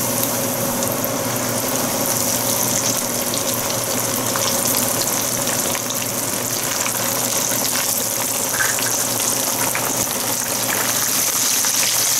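Fish deep frying in hot oil for crispy sweet chili fish, a loud, close, continuous crackling sizzle with steady bubbling hiss throughout and no talk.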